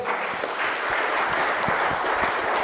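Steady applause from a conference audience, dense and continuous, with individual claps blending into a broad wash of sound.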